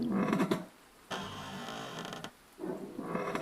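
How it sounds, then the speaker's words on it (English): A rope creaks as it sways from an old prison gallows, in three slow, drawn-out groaning creaks separated by brief pauses, close and moderately loud, with no voices. "hear the faint creak of a rope swaying from the gallows"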